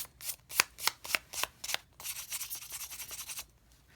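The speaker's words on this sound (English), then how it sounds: "use some sandpaper and touch up this little surface right here" Sandpaper rubbed over a small surface of a Cold Steel Espada XL pocket sword, first in about eight crisp separate scratching strokes, then a quicker run of softer rasping passes, close and quiet.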